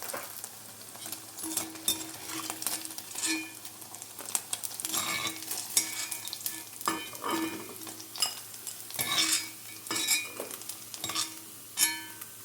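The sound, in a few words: frying flour-coated paneer and mushroom in oil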